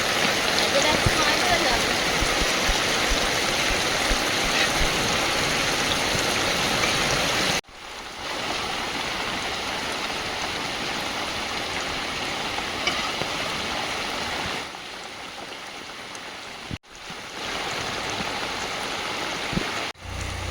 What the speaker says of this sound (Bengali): জল বাড়াচ্ছে দেখো, তুফান বৃষ্টি হচ্ছে আজকের